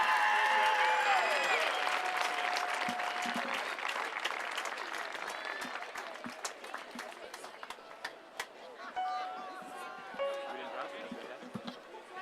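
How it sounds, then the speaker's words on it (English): Spectators at a women's water polo match between the United States and China applaud in an indoor pool arena, the clapping fading gradually beneath an announcer's voice, with whistles and scattered shouts. "Let's give one more big round of applause for Courtney Mathewson"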